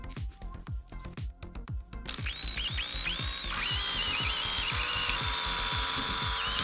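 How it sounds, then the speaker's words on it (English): A power drill whirs in short bursts, then runs steadily and loudly as it bores holes through hard plastic bottle caps, with a rising high-pitched grinding whine. "With a drill bit the same size as the straws to make the holes through the bottle caps"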